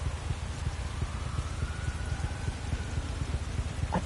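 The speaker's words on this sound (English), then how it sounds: "Look at the rain." Steady rain falls on tarmac in The Crew 2 racing game, a dense, even hiss of drops with a faint low engine-like drone underneath, constant and close throughout.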